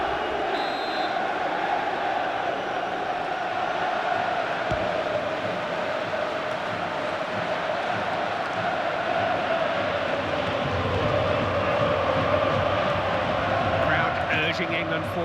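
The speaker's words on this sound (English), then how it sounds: "Crowd urging England forward." A stadium crowd at a FIFA 14 match between England and Italy, a broad, steady roar of supporters urging their side on, swelling slightly, with a commentator talking over it.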